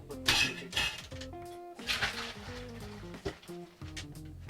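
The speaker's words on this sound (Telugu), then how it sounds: "మనం ఈ గిన్నె ఖాళీ చేసుకోవాలి ఇప్పుడు, ఎందుకంటే అది బిర్యానీకి కూడా అదే" A metal cooking pot used for chicken biryani is emptied, with clanking and scraping of pan and utensils in a quick series of close, moderate knocks and rattles.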